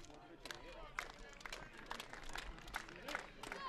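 Wareham baseball fans clap in a steady rhythm for batter Tavares during an away game at Bourne, a moderately distant crowd sound under continuous play-by-play commentary.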